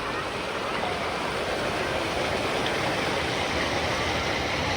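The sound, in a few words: waterfall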